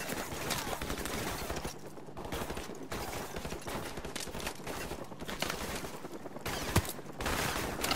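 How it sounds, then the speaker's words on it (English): Rapid pistol gunfire in the video game Call of Duty, dense bursts of shots repeating back to back throughout, loud and close, with occasional brief gaps between volleys. "This is my pistol sound block. You ever heard it before?"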